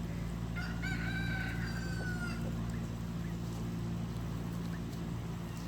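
A rooster crows once, fairly distant, among a large backyard flock of chickens, over a steady low hum and faint clucking.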